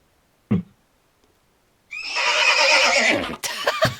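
A horse lets out a short snort, then a loud, drawn-out whinny close by, followed by a few breathy trailing sounds.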